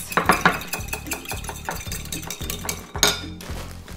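A bowl of breakfast mix with vanilla and cinnamon is stirred with a spoon, giving steady rhythmic scraping and clinking against the bowl, close and fairly loud, with a brief sharper clatter near the end.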